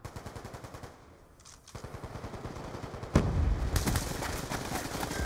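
An LMG in the shooter game Call of Duty: Advanced Warfare fires in rapid sustained bursts, with a short pause before a louder, denser stretch of automatic fire mixed with heavier booms.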